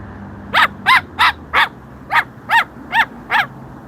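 A Moluccan salmon-crested cockatoo giving eight loud, harsh squawks in a steady rhythm, each short and close, with quiet gaps between and no talking.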